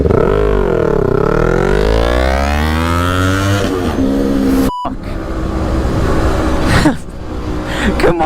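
A Kawasaki Ninja 400 and an electric Kawasaki Ninja E1 racing from a green light, loud close engine revving that climbs through gear changes, a brief cut, then rising whine and roar again.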